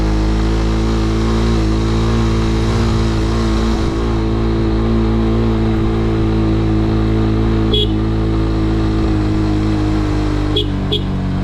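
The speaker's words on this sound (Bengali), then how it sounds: "এই যে ইঞ্জিনের যে শব্দ বুঝছো এই শব্দেই অলরেডি টের পেয়ে যায় যে এখান দিয়ে আসতেছে" A vehicle engine labors loudly and continuously while climbing the steep Chimbuk hill road, a dense, droning mid-pitched roar held steady throughout, with a couple of brief sharp clicks near the end.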